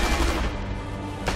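Rapid bursts of gunfire in a video game about hunting Nazis, a dense rattling volley that holds through the whole moment with a fresh burst at the end, fairly loud, with no talk.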